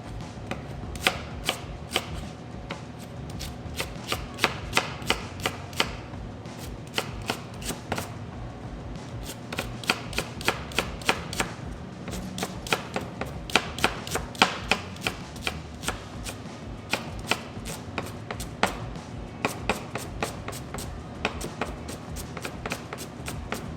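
A knife makes slanted cuts through vegetables on a board in a fast, steady run of sharp close taps, with brief pauses in between.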